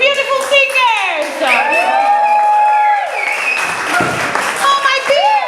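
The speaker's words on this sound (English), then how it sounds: "Please clap your hands to these beautiful singers." Audience at a live singing show in Amsterdam clapping and cheering for the singers, a steady loud wash of applause with whoops and shouted voices over it, no break throughout.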